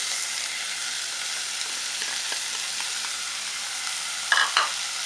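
Sweet peppers and carrots sizzle in a hot pan with a steady hiss, while a utensil stirs and scrapes with soft clicks and a couple of sharper knocks near the end.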